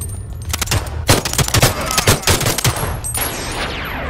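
Rapid bursts of gunfire ring out in a Boneworks multiplayer mod match, with sharp, loud shots clustered in quick volleys before trailing off.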